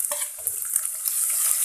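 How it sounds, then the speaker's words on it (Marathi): Finely chopped onions frying in a pan with bay leaves for a Khandeshi chicken curry, a steady close sizzle with a few stirring scrapes, no talking. "छान कांदा फक्त नरम होईपर्यंत भाजायचं आहे आपल्याला"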